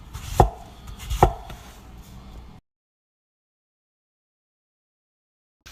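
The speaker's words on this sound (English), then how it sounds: "on plantain, you just wanna cut that on the bias" A knife chops through plantain on a cutting board, cutting it on the bias, with two sharp, close cuts in quick succession followed by silence.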